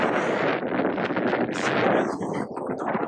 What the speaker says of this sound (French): Proche de la tour, il y a beaucoup de vent